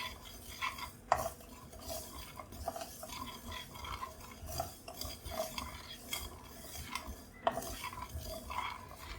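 Mustard and fenugreek seeds frying in oil for mango pickle, a faint sizzle under frequent scraping and clinking of a metal spoon stirring in the pan, close and continuous.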